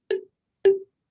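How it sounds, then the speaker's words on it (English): Two short twangy plucks of a rubber band stretched around a glass bottle, the second stronger and ringing slightly longer, with quiet between them. "Pluck the rubber band again."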